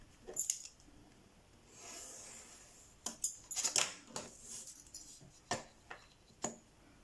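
Paper is cut close up for a handmade mini album. Crisp snips and clicks come in uneven clusters, with a brief softer rustle between the bursts of cutting.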